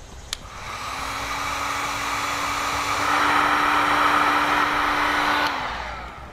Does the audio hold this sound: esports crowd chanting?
no